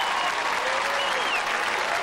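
Steady roar of a capacity stadium crowd of over 30,000 at a 1998 CFL football game between the Toronto Argonauts and Hamilton Tiger-Cats, a continuous wash of applause and cheering heard at a distance.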